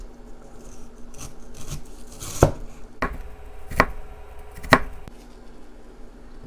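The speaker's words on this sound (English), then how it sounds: "Now with the ginger, just going to cut it in discs first." A knife slicing ginger into discs on a cutting board, several sharp separate chops spaced about a second apart over quieter scraping, close and without speech.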